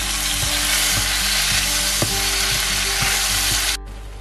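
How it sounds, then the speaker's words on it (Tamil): Ground rasam masala sizzles steadily in a hot pan for a quick bachelor's rasam, with a spoon scraping and stirring in light regular knocks before the hiss drops off abruptly near the end. "இப்ப நம்ம அரைச்சு வச்சிருக்கிற மசாலாவை இதுல ஊத்தி லைட்டா ஒரு 1 minute தாளிச்சுக்கலாம்."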